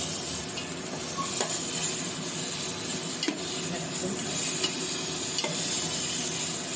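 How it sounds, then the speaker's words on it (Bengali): Spices with cumin powder are stir-fried in a pan, giving a steady close sizzle with spatula scrapes and light clinks throughout. "খুব সুন্দর করে এগুলো এখন কষাবো মশলাটা"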